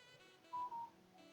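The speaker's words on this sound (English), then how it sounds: "That's my phone beeping in the background if you heard it." A phone gives two short electronic beeps in quick succession, quiet and off to the side in an otherwise hushed room.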